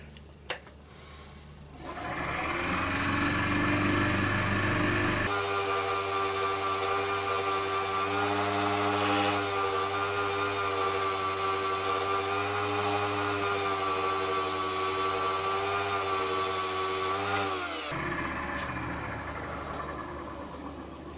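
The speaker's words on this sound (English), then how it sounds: "Now I've just sanded that base up to 600 grit and it's lovely and smooth." A wood lathe spins a wooden pot pourri bowl while its base is sanded up to 600 grit. A loud, steady motor whine and abrasive hiss run close and continuously, then wind down near the end.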